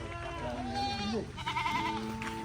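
Several goats bleat in overlapping wavering calls against a busy crowd murmur at the Chattiparamba goat market during Onam trading, one loud nearby bleat standing out above the others.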